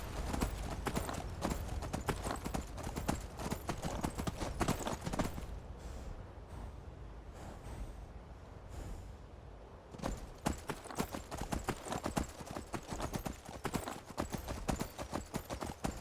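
Geralt-style horse Roach from modded Skyrim gallops in steady, rapid clip-clop hoofbeats, loud and close, easing to a softer lull midway before the pounding rhythm returns.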